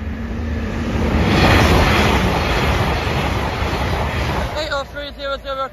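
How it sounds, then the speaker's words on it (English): Blue Inverness to London King's Cross passenger train passing a level crossing, a loud sustained rumble with rail noise building and fading, with a two-tone horn sounding near the end. "Blue train."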